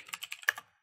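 Keys on a computer keyboard tapped quickly as a terminal command is entered on Ubuntu, about six crisp close clicks in under a second, alone.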